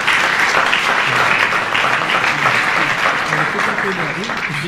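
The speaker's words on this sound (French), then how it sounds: "On applaudit Gavin." An audience at a book launch bursts into sustained, dense applause that fills the room, with voices murmuring beneath the clapping as it gradually eases off.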